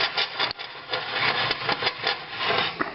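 Yogurt cake batter stirred in a bowl, a close, steady scraping and rubbing with a repeating stroke rhythm and no voices.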